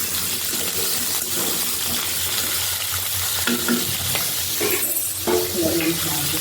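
Potatoes frying in a pan give a steady, dense sizzle throughout, with a few brighter scraping stirs and spoon knocks partway through; no one speaks.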